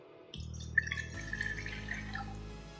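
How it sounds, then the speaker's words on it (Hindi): One cup of water poured into a pan on a stove set to low heat for masala tea, a steady splashing pour starting abruptly and running close and clear, with no talking. "अब हम इसमें शामिल करेंगे 1 कप पानी का"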